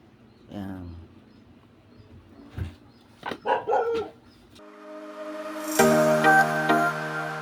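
A few short barks sound from dogs nearby, followed by a steady tonal hum that rises and swells toward the end.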